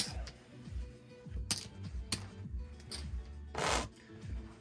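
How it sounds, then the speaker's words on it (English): A blackjack dealer shuffles two decks of playing cards at a $2,000 buy-in casino table, making several quick riffling bursts with soft card taps and slides between them, close and fairly quiet. "the dealer shuffles the cards here"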